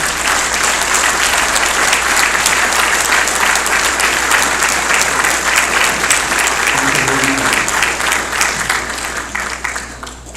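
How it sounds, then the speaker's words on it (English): A large audience at an annual fundraising gala applauds the board of directors, with loud continuous clapping and scattered voices that holds strong, then gradually thins and fades near the end. "can I have the board of directors please stand up so you can all join me in a round of applause of appreciation?"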